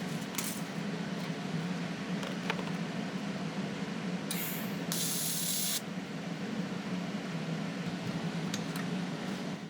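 Two brief bursts of welding tacks filling a small hole on the front beam of a 1956 Volkswagen Beetle, heard as short, loud crackling hisses over a steady background drone.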